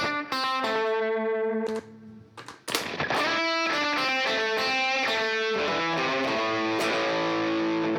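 An electric guitar played through The Milkman slapback delay pedal rings out sustained notes and chords with short echo tails, a brief gap in the middle, then more phrases, all close and without speech.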